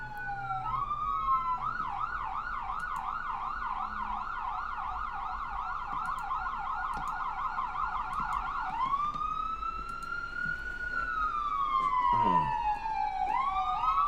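An ambulance siren yelps rapidly, then shifts into a slower rising-and-falling wail, loud and continuous as it passes nearby.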